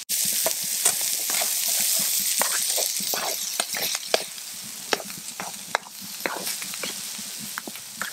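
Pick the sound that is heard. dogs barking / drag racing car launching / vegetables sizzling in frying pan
vegetables sizzling in frying pan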